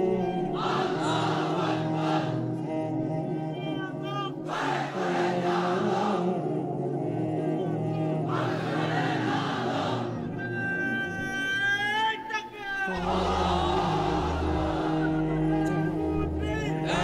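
A large crowd chants Lillahi Takbir in repeated loud unison bursts, each followed by a pause as a leader calls out between the rounds.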